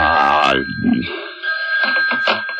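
Telephone ringing in a vintage radio horror drama, a steady electric bell tone running through the whole moment while actors' voices speak over it.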